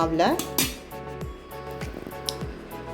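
Fried onions are stirred into kuzhi paniyaram batter in a bowl: close, soft squishy mixing with light clinks of a spoon against the dish, in a steady rhythm.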